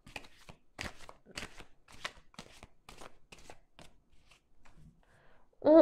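Tarot cards being shuffled and cut, a run of quick, dry, close flicking riffles in an irregular rhythm, ending in a louder brief rustle.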